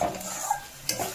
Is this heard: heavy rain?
no